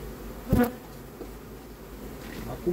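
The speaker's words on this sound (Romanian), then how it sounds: "Vedeți cât albine e aici, da?" Honeybees swarm around an open hive of frames, a steady busy hum with single bees zipping close past in brief louder buzzes.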